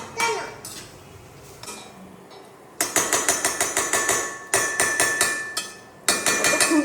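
A metal spatula clangs and scrapes against a cooking pan in quick rhythmic bursts, loud sharp metallic strikes coming in runs separated by short quieter pauses.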